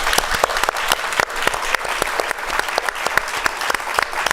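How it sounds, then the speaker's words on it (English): A conference audience applauds at a PEPFAR anniversary event: loud, dense clapping from many hands with sharp individual claps standing out, holding steady the whole time with no talk over it. "You're all clapping"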